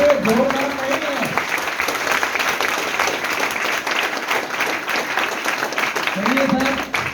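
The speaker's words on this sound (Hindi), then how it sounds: "जोरदार तालियां।" Loud audience applause at a live testimonial event, dense steady clapping filling the whole stretch, with a voice briefly heard at the start and end.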